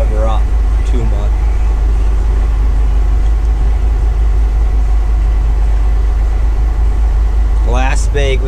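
A tractor engine idles with a heavy, constant low rumble on a cold morning while it slowly backs out of a shed, with someone talking briefly near the start and end.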